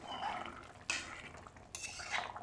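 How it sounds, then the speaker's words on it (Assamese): A metal pot lid is lifted off a simmering fish curry in an Assamese home kitchen, giving two sharp clanks separated by faint stirring and utensil scrapes, close and fairly quiet, with no talk. "এতিয়া মই ঢাকনিখন উদাম কৰিছোঁ।"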